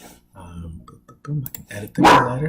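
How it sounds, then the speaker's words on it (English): A dog barks once, sharp and loud, right at the end, after someone speaks. "Excuse my dog, my neighbors are moving into the new place"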